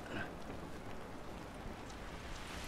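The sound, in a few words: rain falling in The Last of Us video game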